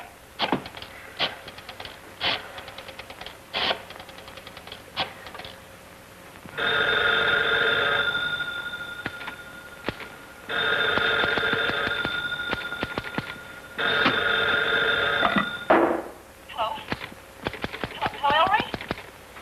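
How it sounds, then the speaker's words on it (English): An old telephone bell in a 1941 radio drama rings in three long bursts, separated by irregular clopping knocks, with a voice speaking briefly near the end. "Stopped ringing. He's taken that phone off the hook and won't answer."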